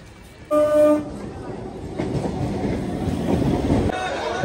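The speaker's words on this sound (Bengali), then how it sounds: "কৃষ্ণনগরে ট্রেন এসে পৌঁছালো" A passenger train pulls into Krishnanagar station, opening with a loud sustained horn blast, then a steady rumble of rolling carriages and platform noise that continues to the end.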